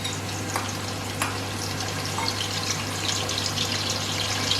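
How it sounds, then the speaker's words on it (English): Chopped onions sautéing in hot oil in a pan for palava sauce, a steady soft sizzle with a few faint clinks, alone and fairly quiet over a constant low hum. "I'm just adding my onions so that I can saute a bit."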